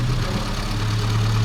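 A Mini's 998cc engine idles smoothly with a steady, loud low rumble that stays even and close throughout, with no revving.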